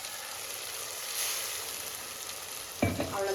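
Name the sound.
ground tomato paste sautéing in a pan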